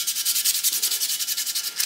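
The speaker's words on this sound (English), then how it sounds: "I started sanding it, so now I gotta sand." Hand sanding a wheel rim from a 1978 Kawasaki KZ1000 Z1R under restoration: quick, steady back-and-forth abrasive strokes, close and even, about a dozen rasping passes with no voices.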